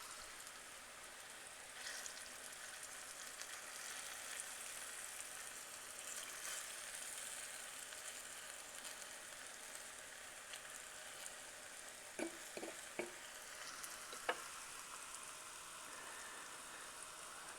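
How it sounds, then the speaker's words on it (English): Vegan General Tso's pieces frying in a pan, a steady soft sizzle throughout with a few sharp pops near the end, fairly quiet and alone. "we're going to finish frying these up real quick"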